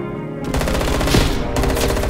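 Rapid automatic gunfire in a first-person shooter Search and Destroy match: a dense, loud burst of rattling shots with a brief gap partway through, then another sustained burst.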